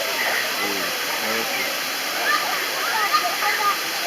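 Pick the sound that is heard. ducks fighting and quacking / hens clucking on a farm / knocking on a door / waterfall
waterfall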